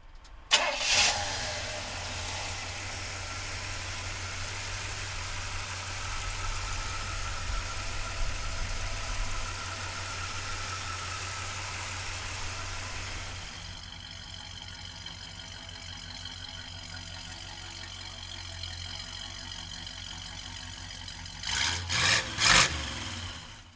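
A 1970 Pontiac Grand Prix engine cranks and fires, then settles into a steady idle held for well over ten seconds, with a few clunks and louder bursts near the end.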